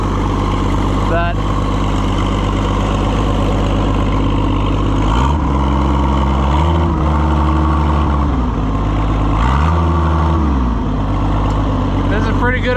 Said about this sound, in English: this is a pretty good old running tractor